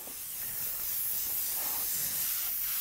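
Spray gun applies light coats of paint onto an anodized part, giving a steady, loud, close airy hiss that runs unbroken from start to finish.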